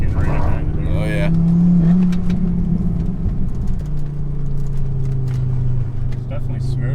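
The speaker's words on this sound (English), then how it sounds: "intake and turbo spool noise" A Volvo car's engine pulls hard under acceleration, with a loud, sustained drone from the intake and a rising turbo whine that climbs in pitch and then settles into a steady hum as the car cruises, heard from inside the cabin.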